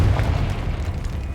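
A Confringo spell explosion in the Hogwarts Legacy video game makes a deep, rumbling boom that rolls on as a heavy low roar for the whole moment, with no talk over it.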